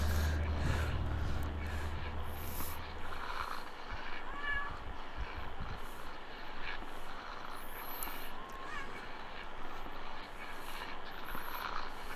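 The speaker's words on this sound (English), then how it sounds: "See if that cat over there has anything he wants to say." Cat in the video game Kentucky Route Zero lets out a few soft meows over a quiet ambient background with a low hum at the start.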